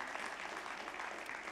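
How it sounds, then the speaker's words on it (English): Applause from a church congregation at an Easter Sunday service, a dense, steady wash of many hands clapping at even loudness throughout, with no pauses. "Can we just clap our hands for those guys?"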